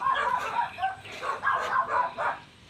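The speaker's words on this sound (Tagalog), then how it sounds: "Dami aso." Several dogs barking at a moderate distance, a run of repeated yaps and barks in quick rhythm over faint background noise.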